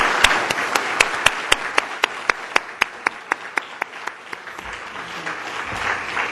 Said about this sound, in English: let's give another great big round of applause for our career panel